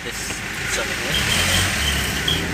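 Steady road traffic rumble from cars and trucks around a vehicle heading to a pick-up point, a continuous mid-level wash that swells slightly partway through, with a voice talking over it.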